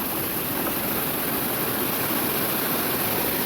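Floodwater pours across a road between Chakalua and Lamachaur, a constant, loud, roaring wash of rushing water with no break and no voices.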